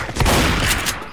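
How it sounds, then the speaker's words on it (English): Rapid gunfire from the zombie shooter Left 4 Dead 2, a quick loud burst of close overlapping shots lasting about a second. "We're shooting each other."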